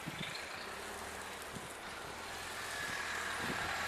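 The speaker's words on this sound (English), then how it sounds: "Here comes the bus." A city bus comes along a snowy street during a 2010 blizzard, its low engine rumble building steadily over steady wind noise, with a faint high whine emerging near the end.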